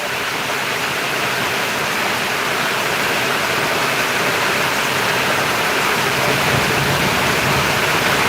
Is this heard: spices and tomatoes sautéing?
no